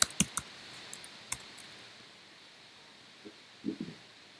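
Keystrokes on a computer keyboard: a few sharp, close clicks in the first second and a half, then a quiet pause and a short cluster of softer taps near the end, with no talking.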